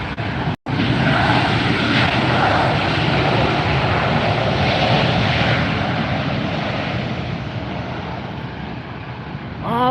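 An Allegiant Airlines airliner roars at Los Angeles Airport, a loud, steady broadband jet rumble close by that fades slightly near the end, with no talk over it.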